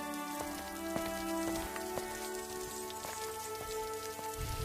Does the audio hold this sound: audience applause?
no